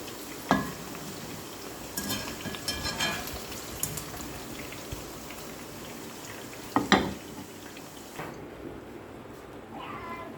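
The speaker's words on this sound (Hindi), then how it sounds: "कुछ इस तरह इसको फ्राई करना है।" Okra (bhindi) frying in oil in a pan, a steady broad sizzle with a few scattered clinks of a spoon against the pan, no talk.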